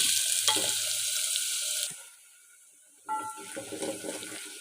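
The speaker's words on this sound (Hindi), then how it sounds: "अब हम डालेंगे प्याज और प्याज को भूनेंगे।" Onions fry in hot cooking oil with a bright crackling sizzle that drops away to near quiet for about a second, then comes back just as lively. No one talks.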